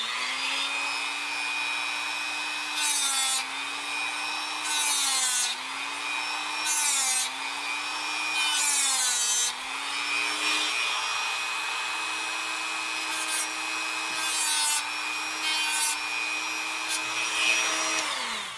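Hand filing a radius onto the edge of a cut port in a Kirst Konverter revolver part at a workbench, with repeated rasping strokes in bursts over a steady background hum; no talking.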